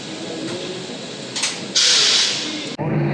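At a railway station on the Kolkata-to-Gangtok line, a train hisses loudly and steadily, with a strong burst of released air partway through that cuts off abruptly.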